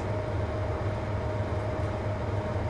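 A BR Class 55 Deltic diesel locomotive runs at around 60 mph in the Train Simulator game, giving a steady low engine drone and rolling rail rumble with a faint whine above it, continuous and unbroken with no speech.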